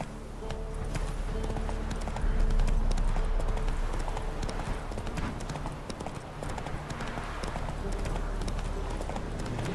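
A horse gallops in The Witcher 3, its hooves striking a steady, rapid clip-clop that stays loud and close throughout.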